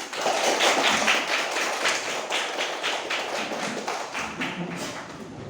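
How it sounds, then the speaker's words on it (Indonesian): An audience in an Indonesian classroom session claps, a dense run of fairly loud hand claps that continues steadily and tapers slightly toward the end. "Oke, tepuk tangan semuanya"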